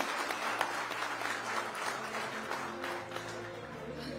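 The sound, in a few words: audience applause for Akhilesh Yadav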